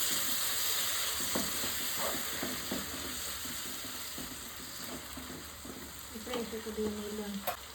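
Eggplant masala with tamarind juice being stirred in a pan, a soft steady sizzle under repeated scraping strokes of a spoon, with a few sharper clinks near the end.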